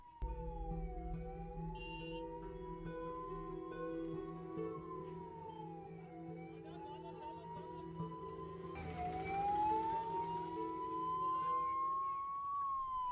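An ambulance siren wails continuously, rising and falling in long sweeps, stuck in a traffic jam of e-rickshaws parked at odd angles, with traffic noise swelling around it toward the end.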